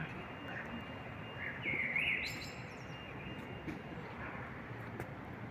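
Small dark songbird perched on a street lamp beside a blossoming sakura tree, giving a short faint chirpy phrase over steady distant background noise, with a softer call later.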